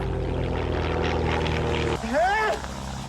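A small propeller plane drones overhead in a desert, steady and fairly loud, with a voice briefly speaking near the end.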